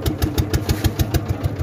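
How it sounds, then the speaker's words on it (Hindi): Motorcycle engine idling outdoors near a river ghat, a loud close chugging pulse with an even, rapid beat throughout. "ये रहा हमारा बाइक।"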